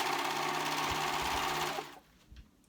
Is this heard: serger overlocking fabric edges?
yes